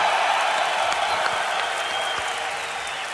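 Esports tournament crowd at DreamHack cheering and applauding for a Counter-Strike quarter-final between Virtus.Pro and Ninjas in Pyjamas, a dense, steady roar of many voices and clapping that fades slightly toward the end.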